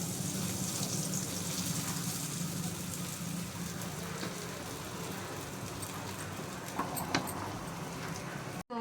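Rice frying in Dalda vanaspati in a hot pan gives a steady, continuous sizzle and hiss that runs nearly unbroken, with a few faint clinks near the end.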